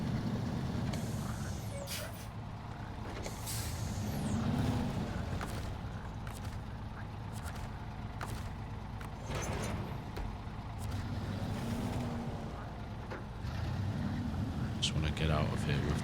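Truck grinding along in the Snowrunner video game on hard mode, a steady low engine drone with clunks and creaks of the vehicle throughout, close and continuous for the whole stretch.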